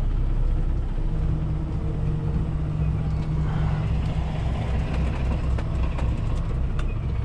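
A semi truck engine idles low and rumbling in the cab while a rookie driver blind-side backs a trailer, steady and close, with faint clicks and rattles over the drone.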